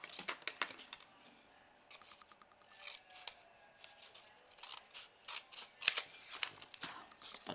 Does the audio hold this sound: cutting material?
yes